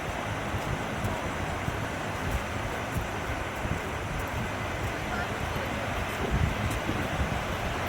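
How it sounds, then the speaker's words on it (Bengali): Strong outdoor wind buffets the microphone during a yoga session, a constant roaring rush with gusts swelling toward the end. "হাওয়াতে জামা রাখা যাচ্ছিল না।"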